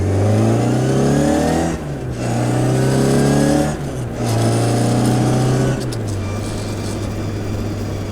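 A 1968 Austin Mini Cooper cafe racer engine under way, loud and close, revving up in three strong pulls with brief drops between them for gear changes, then settling into a steadier drone.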